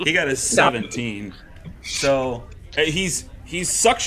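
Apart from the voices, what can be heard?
None of the usual background noises is heard.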